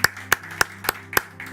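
A church congregation claps during a Sunday worship service, with five sharp, evenly spaced claps over a low, sustained keyboard tone.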